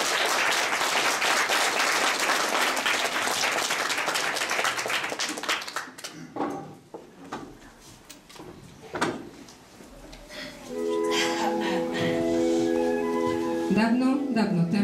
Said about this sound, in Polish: Teraz prosimy o brawa